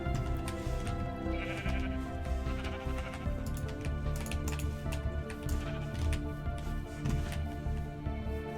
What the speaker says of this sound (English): Right, let's breed up some sheep,